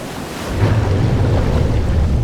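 Ocean waves break in the surf zone, a loud continuous roar of churning water and wind that swells after the first half second and holds steady.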